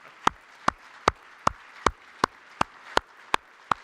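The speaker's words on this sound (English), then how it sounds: "Can you please stand and clap for yourself?" Sharp, evenly spaced hand claps at a conference session of the Africa Investment Forum 2022: about ten crisp claps in a slow, steady rhythm, close and distinct, with no voices.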